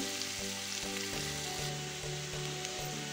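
Brinjal fries in hot oil until lightly browned, a loud continuous sizzle with soft periodic knocks from stirring, no voices.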